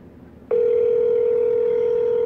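A telephone dial tone switches on abruptly and holds as a steady, loud, unbroken hum until the end.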